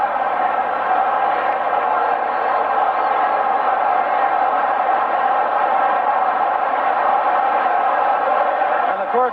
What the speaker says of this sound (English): cheering their famous, what they're trying to make their most popular cheer, Bulls hit